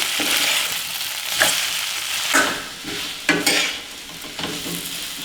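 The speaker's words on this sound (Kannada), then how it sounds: "ಈಗ ಕಟ್ ಮಾಡಿರುವಂತಹ ನುಗ್ಗೆಕಾಯಿ ಹಾಕ್ಕೊಳ್ಳೋಣ. ಈ ಥರ ಮಿಕ್ಸ್ ಮಾಡ್ಕೊಂಡಿರ್ತೀವಿ." Cut drumsticks stirred into a frying pan with soft tomato, a steady close sizzle broken by several scraping stirs of a spoon against the pan.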